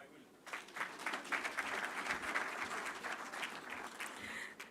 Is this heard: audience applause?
yes